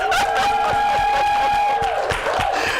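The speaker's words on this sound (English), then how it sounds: "give them another round of applause" An audience at a pitch competition event cheers and claps, a loud crowd roar with whoops, shrieks and a long sustained tonal whistle-like shout over scattered clapping.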